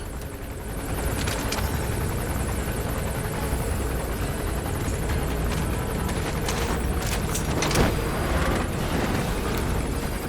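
Helicopter in the video game Metal Gear Solid V, a steady loud rotor drone with thumping engine roar throughout, no talking.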